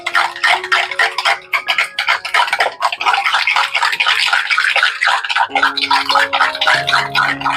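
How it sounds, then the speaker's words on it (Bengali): Sour yogurt being whisked with sugar and salt in a bowl, a quick run of loud clicking, tapping strokes that pause briefly and then resume at a brisk rhythm. "এবার ভালো করে দইটাকে ফাটিয়ে নেব।"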